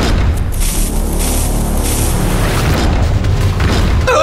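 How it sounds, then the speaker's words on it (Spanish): A TNT bomb explodes in a video game, a loud sustained boom filling the whole moment with a deep rumbling blast and no talk over it. "¡Ay, ahí está la bomba de TNT!"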